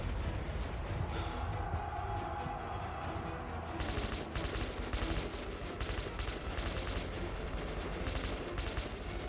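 Gunfire in the post-apocalyptic shooter Metro Last Light, a dense, continuous clatter of shots and noisy combat running the whole stretch, growing busier and sharper partway through.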